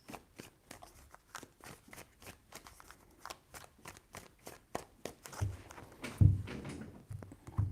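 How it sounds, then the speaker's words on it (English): Tarot cards are shuffled close by in a rapid run of soft riffling flicks, growing a little louder near the end with a few thumps. "3 shuffles."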